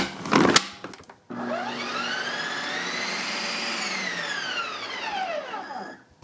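A Ninja ice cream maker respins keto butter coffee ice cream, with a short clatter followed by a loud, steady motor whine that rises in pitch, holds, then winds down.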